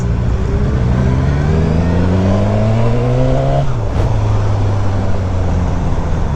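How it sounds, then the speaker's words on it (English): A 2021 Suzuki Katana sport bike's engine and exhaust pulling hard under acceleration, a loud, deep, throaty drone that rises steadily in pitch through a gear, then drops as it shifts, heard close and alone. "a real deep, throaty sound, especially for a sport bike"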